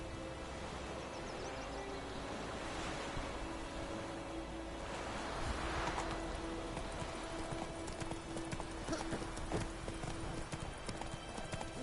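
Horse hooves clip-clop steadily at a walking pace through the whole stretch in The Witcher 3, set around White Orchard, with a low ambient wash of wind or surf underneath and no talk.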